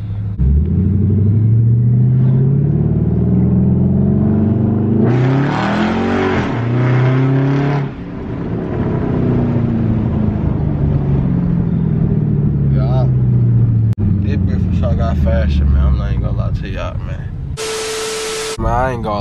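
A Dodge Charger SRT8 with a cleaned K&N air intake makes repeated hard pulls on a main road, engine rumbling and revving up through rising gear sweeps, loud and close from inside the car, with someone talking over it.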